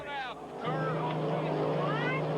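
A hydroplane racing boat at full speed, its engine a steady droning roar, with a passing whine at the start and a race commentator's voice calling over it.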